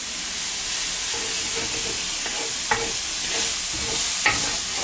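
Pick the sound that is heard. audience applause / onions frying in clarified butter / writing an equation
onions frying in clarified butter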